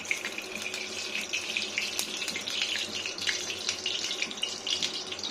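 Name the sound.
washing potatoes under running tap water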